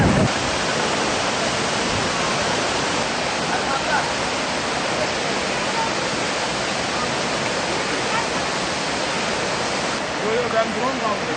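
Girlevik waterfall in Erzincan roars as a steady, loud, broadband rush of falling water, close by and continuous throughout with no other sounds standing out.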